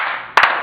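Two quick claps from an audience at an improv comedy graduation show, sharp and close together, standing out against a steady background hum.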